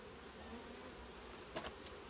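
A soft continuous hum of honey bees in an open hive, with a short louder buzz as one passes close.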